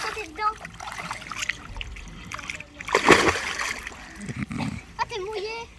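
A person jumps into cold outdoor water, a single loud splash midway, followed by dripping and splashing, with people talking and laughing before and after.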